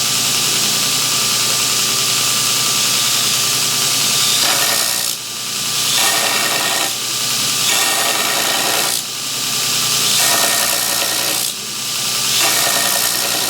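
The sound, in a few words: belt grinder grinding a knife blade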